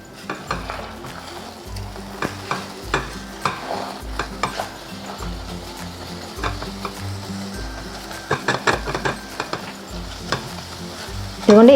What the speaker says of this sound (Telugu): ఈ ఎగ్ని ఉడికించుకోవాలి.